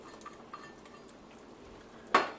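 Onions and jalapeno peppers sauté quietly in a pot with a low, steady sizzle, then a spoon stirs through them with a single sharp clatter near the end.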